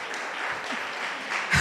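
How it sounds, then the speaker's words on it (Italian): Encouraging audience applause at a conference on pathological gambling, a dense, even patter of many hands clapping, moderately loud and sustained, with a brief louder knock at the end. "Applauso di incoraggiamento"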